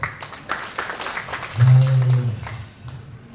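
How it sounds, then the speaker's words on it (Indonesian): A church congregation at a Sunday service claps for the praise and worship team. The applause is moderate and somewhat sparse, with a low sustained hum or tone rising midway through. "Sekali lagi tepuk tangan dong buat tim Praise and Worship kita"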